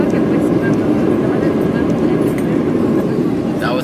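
Airplane takeoff heard from inside the cabin, a steady loud engine roar with broadband rumble throughout. Talk is faint beneath it.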